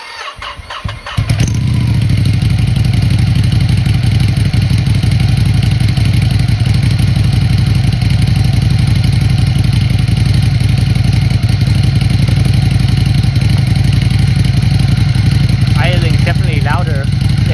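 A Ducati 797 motorcycle with a Termignoni exhaust and no remapping cranks, fires up and settles into a loud, deep, steady idle close by, with a voice briefly audible near the end.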